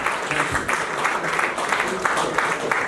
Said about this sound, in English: Lady Bertha, your applause, please